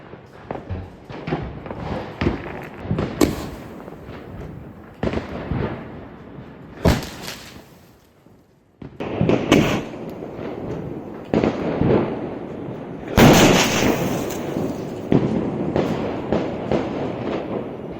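Sky shot Diwali firework with a ruby emerald effect being tested outdoors, a string of sharp launch pops and crackling bursts, some loud and close, with louder booming bursts toward the end.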